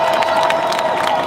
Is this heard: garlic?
no